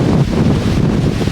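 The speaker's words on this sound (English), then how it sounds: "it's getting windy." Strong wind buffets the microphone outdoors with a loud, continuous rumbling roar that stays steady throughout.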